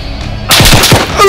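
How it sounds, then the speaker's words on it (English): Sudden close gunfire in ARMA 3: a loud burst of three or four rapid heavy shots breaks a quiet moment, then rings out and fades. "Shooting past you!"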